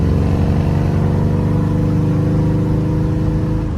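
A loud, steady rumble of a 383 stroker V8 with aluminum heads and headers in a 1969 Chevrolet Camaro, idling and revving up close, deep and throaty throughout.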